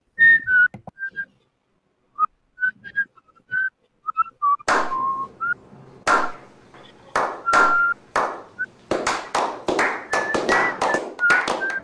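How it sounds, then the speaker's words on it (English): A person whistles a short tune in clear tonal phrases, first quietly alone, then alongside a series of loud, sharp taps and thuds that grow denser and more frequent toward the end. "I can whistle."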